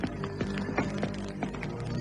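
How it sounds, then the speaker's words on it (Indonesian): Footsteps sound effect in a radio drama, a series of distinct hollow taps in an uneven walking rhythm, close and fairly quiet over a low background hum. "Jaya Singgi melangkah lagi."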